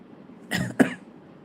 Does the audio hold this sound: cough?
yes